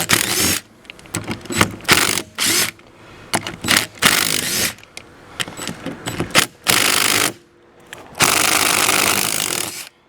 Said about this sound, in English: we got to take these 4 bolts out of here, transfer that plastic fan onto the new clutch